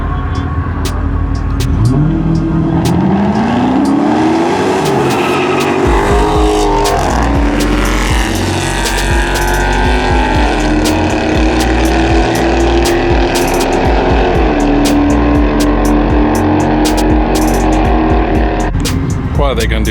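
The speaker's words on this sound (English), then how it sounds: "Twin turbo F-150 on the left, Sam stock Mustang on the right." Engines roar loudly and continuously at a drag strip as a twin-turbo Ford F-150 and a stock Mustang race at Muncie Dragway, rising pitch showing hard acceleration, with a voice talking over the noise throughout.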